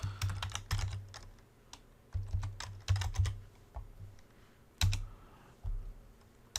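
Bursts of fast, close clicking keystrokes on a computer keyboard, clustered in short runs with brief pauses between, fairly quiet and with no talking.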